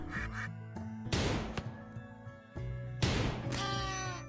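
A duck quacks in the RimWorld video game, heard as short nasal calls amid game music and effects, fairly loud and close, with a couple of bursts spaced across the moment.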